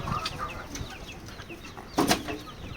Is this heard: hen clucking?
yes